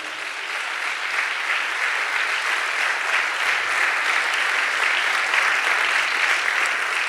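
A church congregation applauds during a Spanish-language sermon, with dense, steady clapping from many hands that holds at an even level for several seconds and carries no talk.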